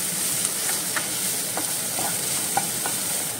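Tomatoes fry in a pan for a Goan moriche ambotik, a steady close hiss with a few soft stirring scrapes and clicks spaced through it; no one speaks.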